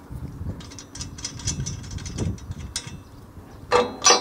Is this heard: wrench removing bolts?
yes